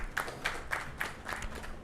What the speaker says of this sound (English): we should clap for him